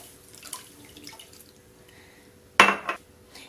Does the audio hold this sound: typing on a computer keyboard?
no